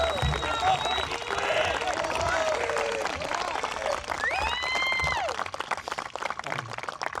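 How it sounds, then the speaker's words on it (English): A high school graduation crowd applauds and cheers for the class of 2026, a dense wash of clapping with shouts and a few whistles rising through it. "Clap."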